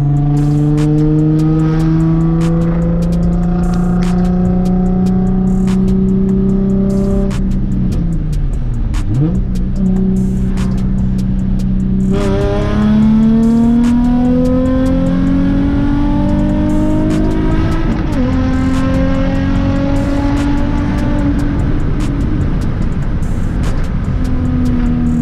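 Nissan 350Z engine revving hard through acceleration pulls, its loud, steady drone climbing in pitch, dipping briefly at a gear change and rising again, close and continuous with no talk.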